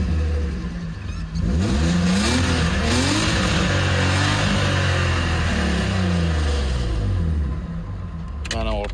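A car engine catches about a second in and is then revved hard, loud and close, rising and falling in several sweeping surges before easing off near the end.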